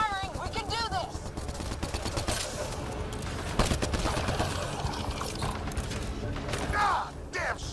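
Dense, continuous gunfire in a Mass Effect 3 firefight: rapid, overlapping shots and bursts crackle over rumbling battle noise, with creaking mechanical sounds mixed in.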